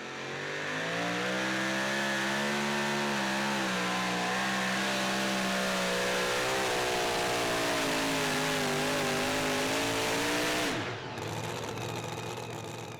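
A super modified 2WD pulling truck roars through a truck pull at Saluda, South Carolina, its engine loud and sustained with a rising, wavering pitch before cutting out sharply near the end, with no talking over it.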